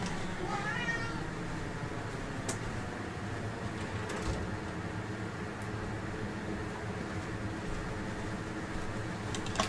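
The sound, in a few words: cat meowing, going nuts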